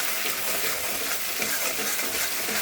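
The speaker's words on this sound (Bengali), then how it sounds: "মশলাটা কিন্তু ভাজা হয়ে গেছে।" Spice paste frying in oil in a pan and being stirred, a loud, steady sizzle with scraping strokes, heard close up with no talking.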